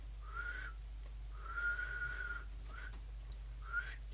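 Someone whistles a few short, wavering notes with pauses between, fairly quiet over a low steady hum.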